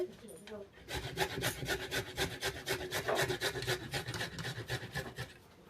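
Amla, Indian gooseberry, is rubbed against a grater in quick, regular rasping strokes, about a dozen scrapes in a steady rhythm, close and clear, after a brief pause at the start.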